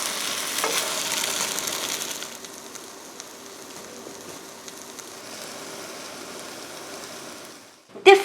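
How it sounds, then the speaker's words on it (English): S'more-stuffed French toast sizzling in a lidded pan, a steady close frying hiss that fades slightly, ending with a brief clatter. "flip over the French toast and let it cook for another 10 minutes with the lid on"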